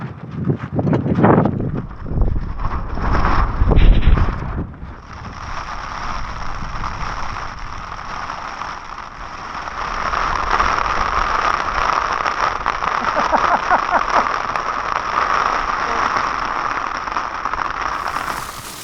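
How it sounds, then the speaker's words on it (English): Heavy rain drums on a tent while wild camping in stormy hills. A few loud knocks and rustles come first, then a steady, dense hiss of rain patters on close by for the rest of the clip. "So this rain has just been relentless."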